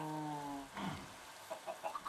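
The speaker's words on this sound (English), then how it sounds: "Chicken looks at me." A chicken in Minecraft gives a short run of soft clucks, several quick, quiet blips toward the end, after a sustained tonal sound and a brief rustle at the start.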